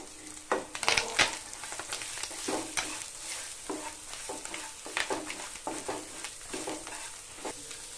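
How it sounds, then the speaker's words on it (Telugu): Cabbage, carrot and onion are stir-fried in a pan for egg noodles, with close, irregular scraping strokes of a spoon over a steady oil sizzle. "ఫ్రై అయింది కదా, ఇప్పుడు క్యాబేజీ వేసుకుందాం। క్యారెట్, ఉల్లిగడ్డ ఇప్పుడు ఒకసారి కలుపుకుందాం।"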